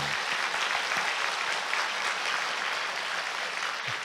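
A church congregation at a Korean Methodist Sunday service applauds together, a dense, even wash of clapping from many people that carries on for about four seconds without speech.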